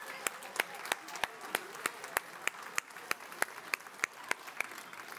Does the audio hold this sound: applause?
yes